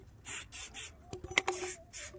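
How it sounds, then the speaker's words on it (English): Short aerosol spray bursts around BMW M57 diesel upgraded intercooler piping, several close hissing blasts of about a quarter second each with brief gaps and a few faint clicks and squeaks between them. "Just spray that around."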